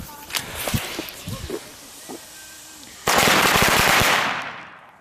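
A multi-shot fireworks battery goes off outdoors on New Year's Eve: scattered pops and crackles at first, then a sudden dense barrage of rapid bursts lasting about a second before fading out.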